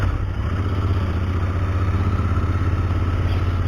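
A Royal Enfield Interceptor 650 motorcycle engine runs steadily at close range, a loud low chugging rumble with faint mechanical clatter, no voices.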